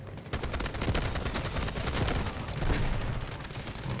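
Rapid gunfire in the mobile shooter Delta Force Mobile, dense repeated shots crackling in quick bursts, loud and close throughout without a break.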